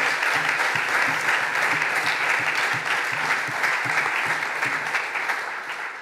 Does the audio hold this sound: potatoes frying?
no